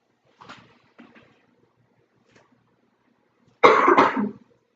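A burst of harsh, loud coughing near the end, preceded by a few faint breaths or small throat sounds in an otherwise quiet room.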